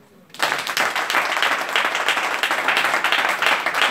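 A church congregation at an all-night prophetic prayer service breaks into steady, dense hand clapping that starts abruptly and carries on evenly at a moderate level.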